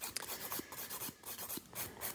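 A nail file scrapes at the cuticle area of a gel nail in quick, soft, rhythmic strokes, close and faint.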